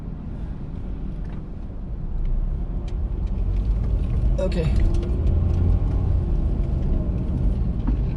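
Cars drive around a busy roundabout in Macau, with steady low traffic rumble and engine noise throughout and a brief brighter passing sound midway; someone speaks a single word near the start.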